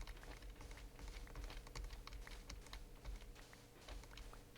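Clicky computer keyboard typed steadily during a Minecraft session, a dense run of sharp key taps close to the microphone, quiet overall and with no voices.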